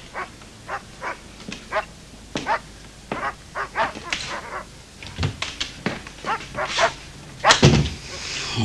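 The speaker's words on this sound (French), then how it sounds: "Oh, ces chiens!" Several dogs bark repeatedly in short, uneven bursts at night, some sharp and close, others fainter, with a few yips and whimpers.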